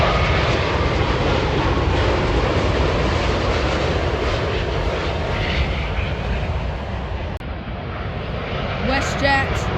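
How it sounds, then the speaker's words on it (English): A Boeing 787 Dreamliner on approach to London Heathrow gives a steady, loud broadband engine roar that holds throughout, with a brief dip late on and a voice talking over it. "Dreamliner coming in, London Heathrow approach, beautiful plane."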